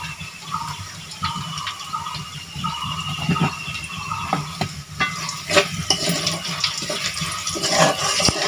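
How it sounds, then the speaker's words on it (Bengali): Garlic fries in a wok while a spoon stirs it, giving a steady sizzle with repeated scraping clicks and knocks across the whole stretch and no voices. "রসুনটা লাল লাল করে ভাজি করে নিতে হবে।"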